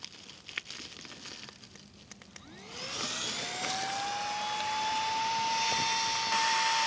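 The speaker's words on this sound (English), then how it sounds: "I'm just going to use the pump" A small pump inflates an ultralight sleeping mat at a wild camp, starting as a steady whirring drone that rises in pitch over a few seconds and then holds level, close and continuous.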